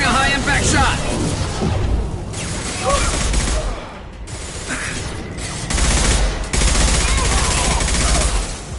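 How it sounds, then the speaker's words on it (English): A high-impact gunshot fired during a Mass Effect firefight, loud and close within continuous battle noise of rapid gunfire and booms, with characters shouting over the action. "Firing a high-impact shot!"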